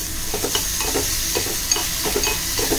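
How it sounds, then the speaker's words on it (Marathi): Browned onion and fresh coriander are stir-fried in a pan, heard up close as a steady sizzle broken by rhythmic scrapes and clatters of a spatula and no voices. "कांदा ब्राऊन झाला आपला, थोडी कोथिंबीर आपण त्याच्यामध्ये परतणार आहोत।"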